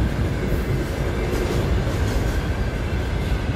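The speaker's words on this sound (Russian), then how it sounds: "Два сочлененных у него локомотива везут," A long freight train hauled by two coupled locomotives rumbles steadily past close by, a dense continuous rolling roar of wheels on rails with faint clatter.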